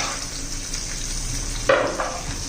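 Chopped onion added to green chilli and garlic already frying in a pan for a dill (shepu) vegetable dish, giving a steady close sizzle that bursts louder as the onion hits the hot oil, with a brief stir.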